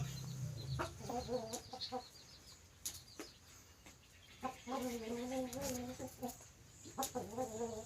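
An eight-and-a-half-month-old young rooster clucks in short repeated bursts, nearby but fairly quiet, with scattered rustling and faint background noise between calls.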